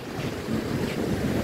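Surf rolls onto the seashore at Tambade in a steady, loud roar while strong wind rumbles across the microphone, with no speech.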